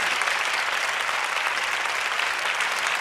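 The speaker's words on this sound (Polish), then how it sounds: "Cieszę się, że Państwo zwrócili mu te brawa, które sam sobie zabrał." Sustained applause from a concert audience at a jubilee concert, a dense, steady clatter of many hands clapping, close and loud, with no talk over it.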